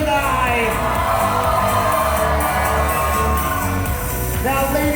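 Wedding guests cheer and whoop for the couple in a loud crowd roar that runs without a break through the whole stretch, with music thumping underneath and shouts and yells rising out of the noise.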